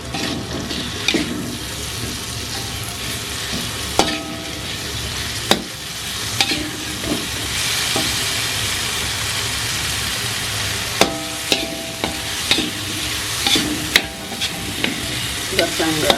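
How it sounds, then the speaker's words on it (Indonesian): Spice paste with bruised galangal sautéing in a pan, a loud continuous hissing sizzle with occasional sharp spatula knocks and scrapes spread through, close up. "kita tumis bumbunya dulu teman-teman, pakai lengkuas yang sudah kita geprek tadi ya"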